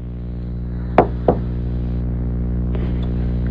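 Two sharp knocks on a door in quick succession, fairly close and clear over a steady low room hum, with a faint soft tap afterward.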